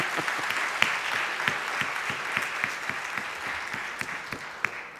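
Audience applause at a college valedictory function, a steady wash of many hands clapping with a few sharper individual claps standing out, moderately loud and continuous throughout.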